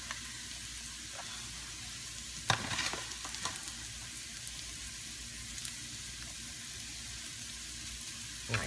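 Onions frying in a pan for liver and onions give a steady, fairly quiet sizzle throughout, with a few brief clatters of stirring or handling near the middle and no talk.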